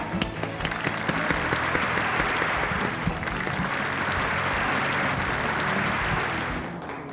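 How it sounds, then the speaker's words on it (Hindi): Sustained applause from a sizable crowd, dense and steady clapping that continues for several seconds before beginning to fade. "जोरदार तालियों से सर का स्वागत किया जाए।"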